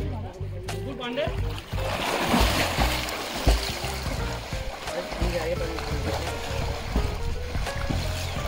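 Friends splash and swim in an outdoor swimming pool at night, with a steady wash of water movement and scattered splashes, while voices talk and shout over it throughout.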